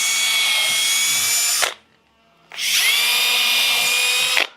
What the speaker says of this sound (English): we're going to need to pre-drill it again.